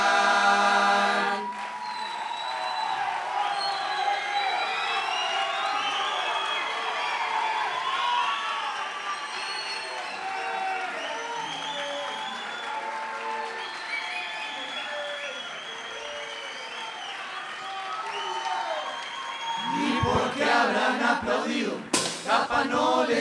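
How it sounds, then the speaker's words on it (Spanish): At a 2011 carnival murga show, a seated audience applauds and cheers in a long, fairly distant wave of clapping after a brief sung phrase, ending with a few louder close bumps. "Le pedimos a la gente, se pare de sus asientos y nos aplaudan contentos"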